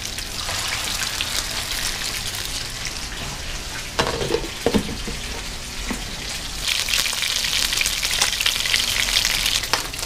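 An unseasoned bonnethead shark fillet fries in a pan with a loud, dense, continuous sizzle and crackle, broken by a few sharp clatters partway through.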